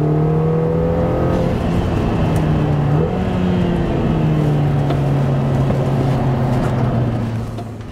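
A Lotus Emira drives on the Hethel test track, its engine droning loud and close at a steady, sustained pitch with a brief shift midway and a slight fade at the end.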